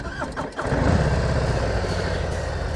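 A 2018 Harley-Davidson Heritage 114 motorcycle engine cranks briefly, then catches and settles into a loud, steady, throaty rumble close by.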